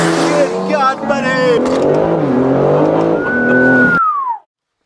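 An 800 hp BMW G80 M3 being street drifted: a loud, close engine roars and revs with rising and falling pitch, and a high tire squeal streaks across the end before the sound cuts off abruptly.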